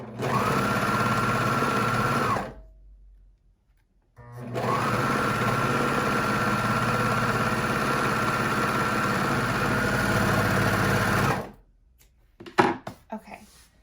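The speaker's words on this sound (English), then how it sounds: "And I'm going to stitch this seam." A sewing machine stitches a seam in panel underwear, running in a steady, close whirring hum for about two seconds, pausing briefly, then running again for about seven seconds before stopping, followed by a few soft handling clicks.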